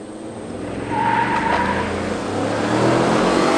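A 2016 or 2017 Ford F-150 pickup with a 10-speed transmission, in sport mode and two-wheel drive while towing, pulls away from a stop with a loud, rising engine roar that holds steady and close.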